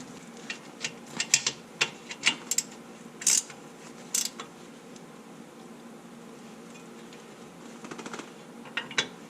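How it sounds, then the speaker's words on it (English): A ratchet with an 18mm socket tightens axle bolts on a 2016 Jeep JK rear axle, making close, crisp bursts of rapid clicking in short uneven runs with brief pauses between them. "An 18mm socket on the top, and then you probably need either a short 18mm socket for the bottom one, or an 18mm wrench."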